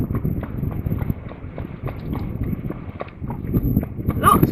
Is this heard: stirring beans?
no